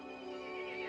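Angry horse neighing in Resident Evil 8, a loud sustained whinny with a strained, harsh edge filling the brief moment, heard alone without speech.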